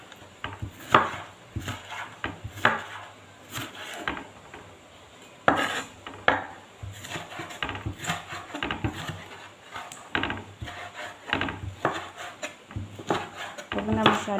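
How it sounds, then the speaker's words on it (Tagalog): Tomato is cut with a knife on a board for chicken biryani, with repeated close, uneven knocks and scrapes throughout while a voice talks over it. "Hiwain natin yung kamatis."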